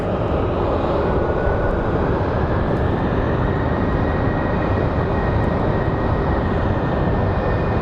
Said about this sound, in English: So there's our flight from Columbus.